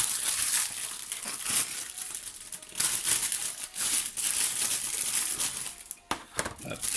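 Plastic and cardboard packaging of a Street Fighter figure being opened, with steady close crinkling and crumpling throughout and a few brief pauses, no talking.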